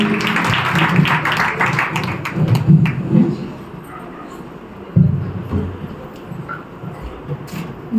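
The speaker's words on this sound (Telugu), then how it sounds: "చప్పట్లు కొడుతూ ఆ కారణం తెలియజేద్దాం." A church congregation claps, a dense burst of applause that fills the first few seconds and then fades to scattered claps and room murmur.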